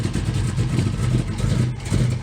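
A 1969 Camaro pro street car with a solid-roller camshaft, its engine running with a loud, lumpy, choppy idle and a deep pulsing rumble close by, with no talk over it.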